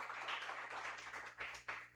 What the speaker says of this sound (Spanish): Dale un fuerte aplauso a nuestro Dios